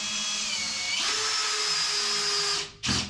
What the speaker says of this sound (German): Und dann sind hier Unterlegscheiben dabei und dann schrauben wir das Ganze hier jeweils fest